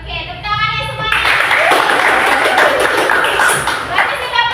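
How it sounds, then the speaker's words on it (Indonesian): Classroom students clap together in a loud burst that starts after a brief moment of talk and continues as a dense, sustained patter, with children's voices mixed in. "Oke, tepuk tangannya semuanya"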